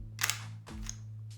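A pistol snaps into an OWB holster with a few crisp plastic clicks close to the microphone, over a steady low electrical hum, with no voices.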